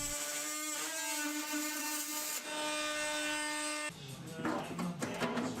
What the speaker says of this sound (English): I can then use a metal cutting blade in my oscillating tool to cut away more material